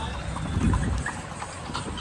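Horse hooves clip-clop from a tanga cart near a temple town parking area, a few hoof strikes standing out over a busy background of ambient noise and murmur.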